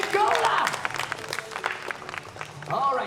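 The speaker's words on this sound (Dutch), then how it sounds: "Mag ik een groot applaus voor de stoerste papa van Jungola?" Brief, uneven clapping and applause from a family audience at a zoo jungle show in the Netherlands, mixed with voices and crowd chatter.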